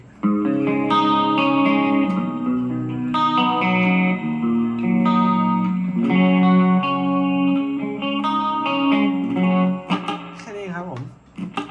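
Electric guitar through a Korg AX3000G multi-effects unit with a sweet chorus patch, strummed chords ringing with a shimmering, wide modulated tone, loud and continuous for several seconds.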